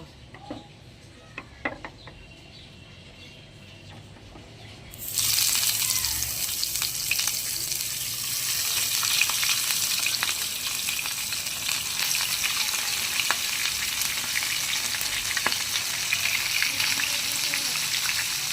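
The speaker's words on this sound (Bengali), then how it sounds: "তেলটা গরম হয়ে গেলে আমি একটা একটা করে মাছ ভেজে নেব" Parshe fish go one by one into hot oil. After a few quiet seconds of faint clicks, a loud, steady sizzle of frying starts and keeps on, crackling close by and never easing off.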